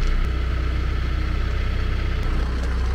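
A tractor engine idles steadily while warming up outdoors, a low continuous rumble with an even throb that holds unchanged, loud and close, with no talk over it.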